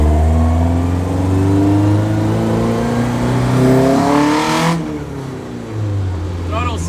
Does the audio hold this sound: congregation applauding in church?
no